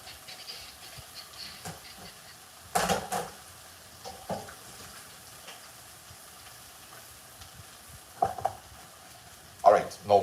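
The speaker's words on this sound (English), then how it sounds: "Maybe I could lower that down a little bit now because it's starting to sizzle." Food sizzling as it fries in a pan, a soft steady hiss broken by a few louder crackling bursts from the stovetop.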